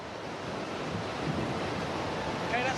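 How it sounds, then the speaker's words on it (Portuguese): Strong artificial wind from a typhoon simulation machine at Hong Kong International Airport, a steady, loud, broadband roar that rushes continuously without pause. "Eu estou sentindo um ventinho."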